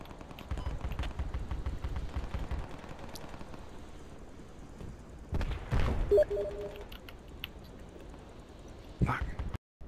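Distant rattles and bursts of gunfire across a Project Reality battlefield with Russian forces, a rumbling low backdrop and a few louder nearby shots, with occasional voices over radio.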